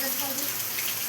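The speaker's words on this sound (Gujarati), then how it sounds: "મસ્ત મજાનો વરસાદ આવે છે" Steady rain falls on a rural Gujarati village during the monsoon sowing season, a soft even hiss with no distinct drops standing out, quiet and unbroken throughout.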